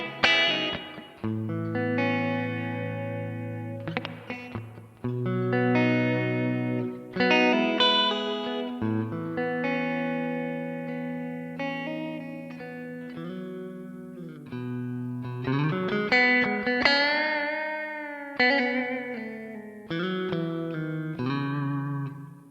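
Clean electric guitar through a Thermion Freeway amp, playing ringing notes and chords with a lush, spacious reverb tail letting each phrase hang and decay.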